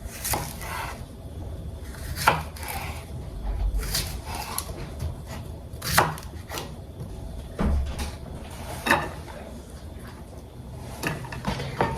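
A knife slices cucumbers for a salad on a board in a home kitchen, sharp separate knocks at irregular intervals a second or two apart over a low room background.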